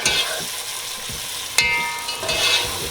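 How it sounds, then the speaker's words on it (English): Food fries in a hot pan for Jamaican fried dumplings, a close, continuous sizzle broken by a few scraping stirs and one sharper clatter partway through. "Let them fry up for a bit."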